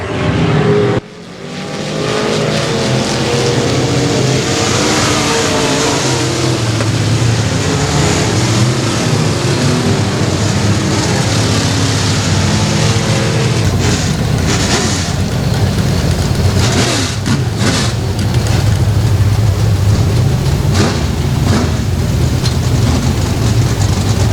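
Pro Mod race cars roaring through their final lap at Boothill Speedway, a loud, continuous, close engine howl that swells slightly as the pack passes, with no voices.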